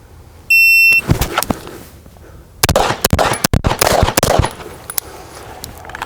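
Five sharp pistol shots ring out in quick succession during a timed ten-yard shooting drill, preceded by a shrill timer beep, with no talking.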